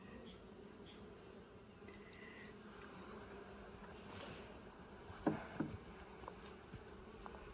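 A steady, faint drone of many honey bees buzzing close by at a hive during an inspection, with a few soft knocks and taps partway through.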